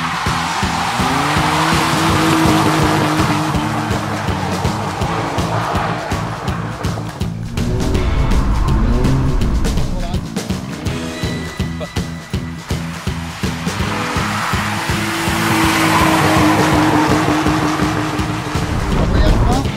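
A car drifts with loud tire squeal and a repeatedly revving engine that surges and drops, close and continuous, while people talk over the noise.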